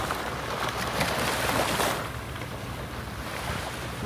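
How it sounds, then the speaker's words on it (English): Bow waves from an incoming tanker ship washing onto a beach at Studland in early morning, a steady, full wash of surf and water noise with some wind buffeting, no voices. "Lovely sound. That's the bow waves off that tanker coming in now."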